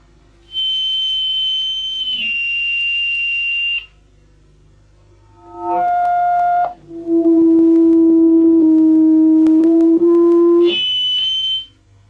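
Pitch-controlled acoustic feedback shriek through a loudspeaker, a series of loud sustained pure tones that jump between high and low pitches, each held a second or more, with brief quiet gaps in between.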